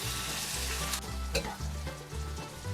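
Steady frying sizzle with scraping, stirring strokes of carrots, onions and tomatoes in a pan, fairly close, with faint music beneath.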